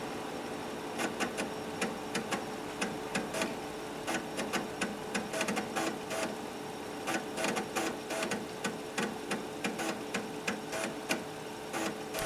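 A 5.25-inch floppy disk drive reads during a Windows 3.0 install, producing irregular bursts of sharp mechanical clicks and chattering steps over a steady motor hum.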